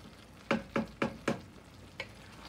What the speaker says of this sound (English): We're gonna stir this in, then we're gonna cover it up.